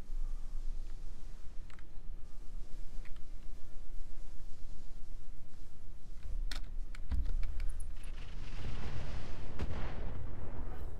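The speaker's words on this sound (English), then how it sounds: "We still have our barrage though" An artillery barrage in the mech game Roguetech rumbles with deep booming impacts, thickening into a dense cluster of blasts toward the end over a constant background of game noise and rapid clicking, with no talking.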